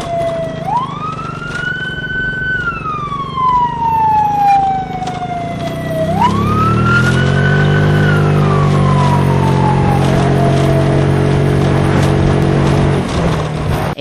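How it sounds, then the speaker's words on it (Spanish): Protección Civil ambulance siren sounding during an organ transfer to a stadium helicopter, a loud close wailing siren sweeping up and down in long rising and falling cycles, with an engine rumble growing beneath it midway. "se realizó el traslado en una ambulancia de Protección Civil hacia el Estadio Francisco Villa"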